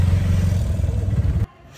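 An auto rickshaw engine runs steadily and loudly during a ride in Andhra Pradesh, a low rattling drone with clatter that cuts off abruptly near the end.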